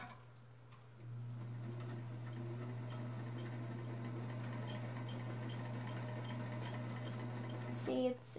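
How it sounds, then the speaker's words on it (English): Singer Featherweight sewing machine stitching fabric with its needle set in wrong, a steady close motor hum with fine rapid ticking that runs for about seven seconds before stopping. "So I'm going to sew a little bit and show you what it will do."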